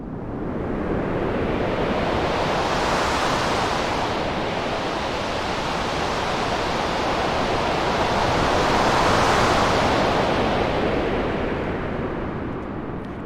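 A synthesized stormy wind built in Sytrus within FL Studio roars steadily and loud, a broad noisy rush that swells and ebbs in slow gusts, with no voices.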